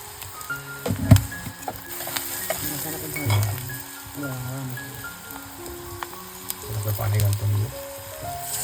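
Oil sizzles and crackles steadily as Konkani spice masala is tempered for a cowpea dish, with a sharp pop early on and clinks of a utensil, under continuous frying hiss.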